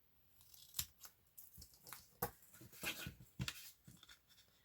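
Scissors snip through paper to cut tags for file folders, a series of crisp, close cuts in an irregular rhythm with short pauses between them.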